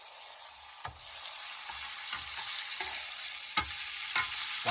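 Goose or duck internal organs sizzle steadily in a hot paella pan while a utensil scrapes and stirs them in repeated strokes, the frying hiss constant underneath.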